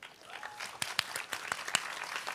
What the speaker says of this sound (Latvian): Pašiem aplausi par to.